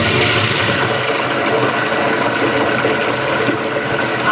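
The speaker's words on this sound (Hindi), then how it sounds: "अब आलू। इसी गर्म तेल में" Half a kilo of potatoes dropped into hot oil, already used for browning onions, frying over a high flame. A loud, steady, close sizzle and crackle runs without a break and nobody talks.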